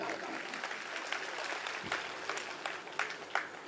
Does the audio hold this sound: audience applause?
yes